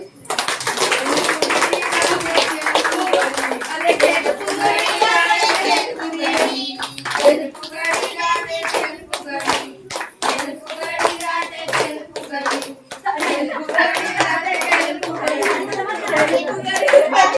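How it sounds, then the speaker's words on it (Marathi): Women clap their hands in a steady rhythm during a traditional Gauri Jagran dance in Konkan, the sharp claps running alongside loud singing voices throughout. "टाळ्या मारा"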